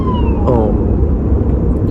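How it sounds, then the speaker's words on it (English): An ambulance siren passes outside a moving car, its wailing tone sliding down in pitch and fading behind loud road and engine rumble. "There's an ambulance."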